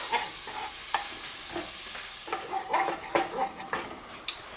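A spoon stirs a shrimp étouffée roux in a warm pan, producing a series of soft scraping and clinking strokes over a gentle sizzle, close and fairly quiet, with no talking.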